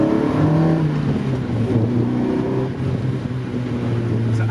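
A Mazda Miata MX-5 with a swapped Honda K24 engine pulls hard under acceleration, its engine note droning steadily and close from inside the car, with no talk.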